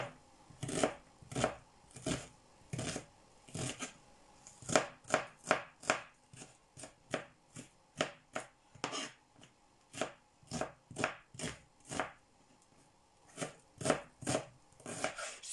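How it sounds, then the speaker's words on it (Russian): A knife finely chops meat and onion on a board in quick, uneven bursts of sharp taps, close up and clear, with short pauses between runs of strokes. "Также меленько режем."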